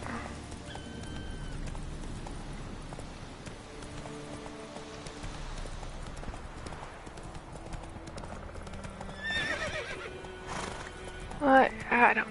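Roach the horse in The Witcher 3 gallops with steady clip-clopping hooves under game ambience, ending in a couple of loud, shrill neighs; someone talks intermittently over it.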